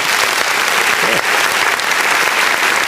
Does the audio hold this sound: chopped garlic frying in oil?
no